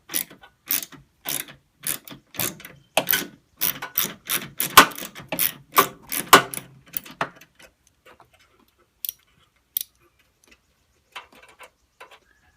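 Ratchet clicking rapidly in repeated bursts while bolts are backed out of an Acura CSX during a spark plug change; close and fairly loud for about eight seconds, then fading into a few sparse clicks.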